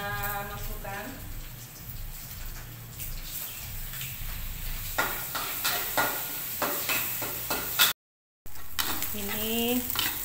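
Eggs frying in a pan for Javanese mie goreng crackle and sizzle steadily, with sharper stirring scrapes growing busier later; a voice speaks briefly near the start and again at the end.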